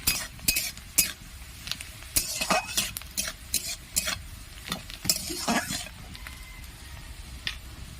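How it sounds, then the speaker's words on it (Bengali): Ingredients for Bengali lau musuri, a bottle gourd and lentil dish, fry in oil in a pan. A spatula scrapes and taps against the metal in irregular strokes over a soft sizzle, close up and without talk. "হালকা লাল লাল করে ভেজে নেব।"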